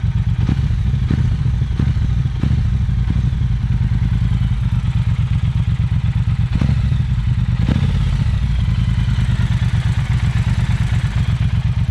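A Triumph Bonneville Bobber Black 1200 cc twin idles close by with a loud, steady, throbbing engine rumble and a mechanical clatter. A few short throttle blips rise out of it and no one speaks.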